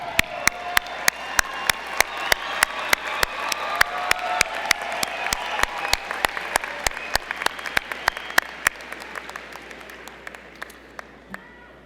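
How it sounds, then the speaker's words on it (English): Applause from a large audience at a university fall graduation commencement, dense sustained clapping with sharp individual claps standing out near the mic, slowly thinning toward the end. "And you give them now a big round of applause"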